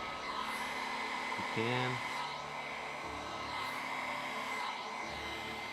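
Blow dryer running on its hot setting while drying alcohol ink on an art surface, a steady close whooshing drone throughout, with a brief spoken word early on.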